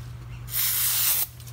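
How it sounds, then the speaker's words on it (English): A can of brake cleaner gives one loud, close hiss of spray lasting under a second, aimed at a Honda Acura rear brake part, with a low steady hum underneath before and after. "spray some brake cleaner on there"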